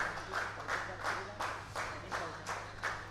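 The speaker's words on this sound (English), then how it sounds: "Well, there's an applaud." Scattered applause from a cricket dressing room and a few supporters at an under-19 school final, sounding as a thin run of bursts of clapping, moderately distant, over a steady low hum.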